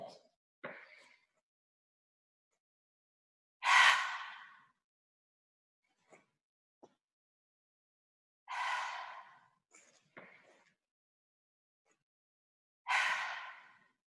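Three long, breathy exhalations through the mouth during a gentle yoga practice, each a soft whooshing sigh spaced several seconds apart, with a few faint small clicks and breaths in between and no talking.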